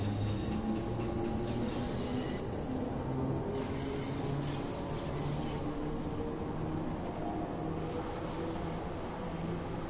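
A Bakerloo line train in Train Sim World 2 rumbles steadily with a low rolling drone and faint hiss throughout, fairly quiet and unbroken by talk.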